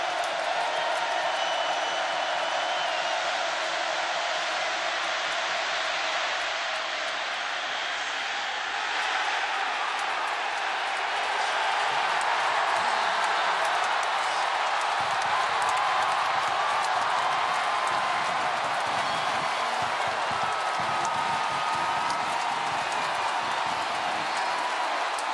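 A packed college football stadium crowd at Texas A&M roars steadily on a fourth down against Nebraska, a dense, sustained wall of cheering and noise that holds loud throughout with only slight swells.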